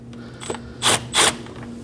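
A 10mm socket ratchet loosens an intake tube clamp on a 2011–2016 Kia Optima, giving a few short, close clicking bursts, two of them louder, against a quiet background.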